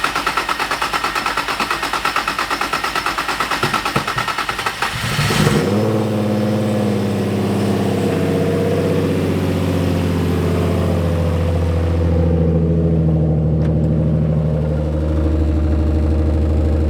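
A car engine starts and settles into a steady, loud idle after a major repair with new parts and fresh Gulf 10W-60 oil, following an earlier stretch of broadband noise.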